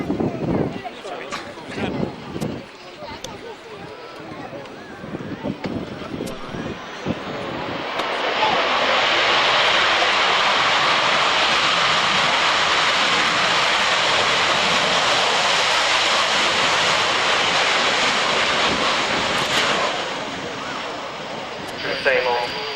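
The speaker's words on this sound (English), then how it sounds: "First aircraft goes past and its tail's rather dirty" At the 1993 RAF Waddington airshow, an aircraft sweeps past with a rising engine roar that swells into a long loud broadband rush before fading, after a stretch of talking and crowd noise at the start.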